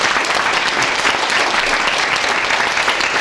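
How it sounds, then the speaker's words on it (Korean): Sustained audience applause fills a commemorative ceremony for the 50th anniversary of the Syngman Rhee founding president memorial society, dense steady clapping from a large crowd throughout, no voices clearly heard over it. "다시 한번 박수 한번 보내겠습니다"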